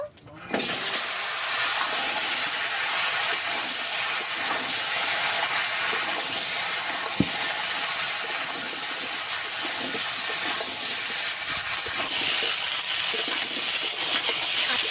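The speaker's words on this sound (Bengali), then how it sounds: "কচু ভালো করে একটু ভেজে নেব।" Steady loud sizzling of taro and potato frying in hot oil with black cumin, a continuous hiss with no pauses and no talking.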